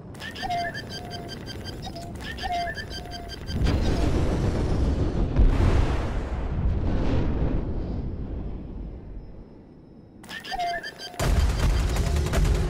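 Gunfire and explosions in a Star Citizen battle: dense booming bursts of weapon fire, close and loud, running through most of the stretch between quieter sections with game music and effects.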